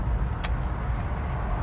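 A car drives along the 405 freeway, giving a steady low rumble of road and engine noise from inside. A brief sharp hiss cuts through early on.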